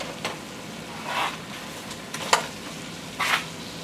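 Pork and onions frying in a pan for a tomatillo stew, with soft sizzling that swells in a few brief bursts over low, steady background hiss.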